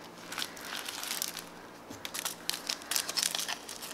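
Sticky backing paper peeled from a sand art sticker kit, giving a crackly, crinkling tearing noise in irregular close bursts that grow busier toward the end, with no talking.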